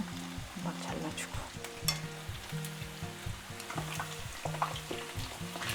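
Chicken pieces sizzling in hot oil during a second deep-fry for kkanpunggi, a steady close bubbling crackle with light stirring and scattered pops, without any voices.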